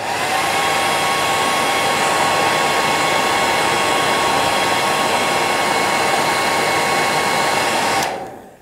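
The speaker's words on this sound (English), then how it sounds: "so I'll just add a wee bit of heat using the hairdryer." Hair dryer blowing heat onto fly-tying fibres, a loud continuous whirring roar that holds steady for about eight seconds and then cuts off abruptly.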